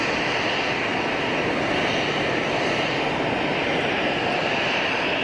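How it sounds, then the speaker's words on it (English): British Airways airliner on final approach to Geneva Airport, a steady broadband engine roar holding level and fairly loud throughout, with no voices over it. "Looks like British Airways on a final"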